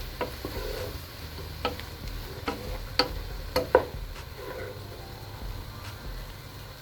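Ground meat frying in a pan with bell pepper and onion for Persian estanboli polo, a steady sizzle broken by scattered sharp ticks and stirring clatters, close and moderately loud, with no voices.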